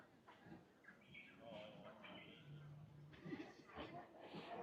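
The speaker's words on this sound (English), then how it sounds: "Seagulls." Faint gull-like bird calls, a few rising and falling cries, come through the bustle of a busy waterfront street on the Cairns Esplanade near a crowded cafe, with people talking in the background.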